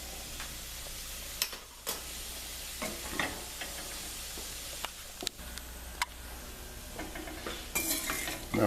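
Broccoli being stirred and moved around in a skillet, with soft sizzling, scraping and occasional utensil clinks against the pan, close by and fairly quiet, with no talking.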